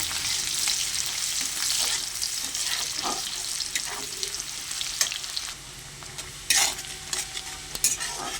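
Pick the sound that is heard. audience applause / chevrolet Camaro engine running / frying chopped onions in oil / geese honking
frying chopped onions in oil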